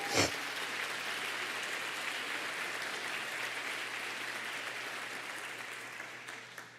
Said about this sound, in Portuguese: Isso, aplauda ao Senhor.